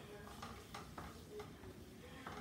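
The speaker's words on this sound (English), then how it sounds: "Y'all hear that sizzle?" Food sizzles and crackles steadily in a hot pan, with soft scraping and stirring sounds heard close by.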